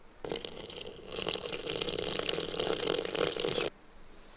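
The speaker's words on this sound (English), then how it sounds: "So we mix in the water till we get the right consistency." Cold water poured and mixed into bread dough in a kitchen: a steady splashing, running-water rush lasting a few seconds, close by, then stopping abruptly.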